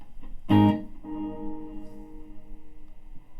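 A single bright electric guitar strum through an Electro-Harmonix Cathedral stereo reverb pedal rings out, then its tail repeats and fades as soft, echoing repeats wash through a reverb haze.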